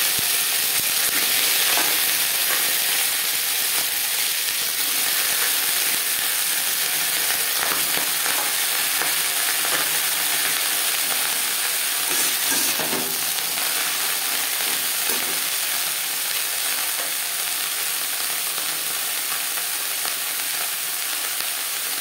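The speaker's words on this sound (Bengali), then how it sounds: "10-15 সেকেন্ড ভেজে নেওয়ার পর দিয়ে দেবো টুকরো করে কেটে রাখা ব্রকলি।" Broccoli pieces fry in refined oil tempered with five-spice and bay leaf, giving a steady, dense sizzle and hiss that continues loud and unbroken, with occasional stirring and no talk.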